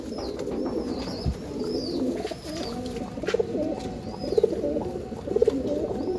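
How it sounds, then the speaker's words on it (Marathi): Andhra line racing pigeons coo in low, repeated throaty rolls, close by, with faint chirps and a light hum of surroundings behind them. "एकदम फेंट डोळ्याचं कबूतर आहे."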